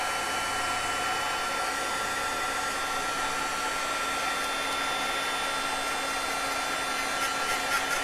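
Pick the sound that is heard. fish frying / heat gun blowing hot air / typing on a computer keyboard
heat gun blowing hot air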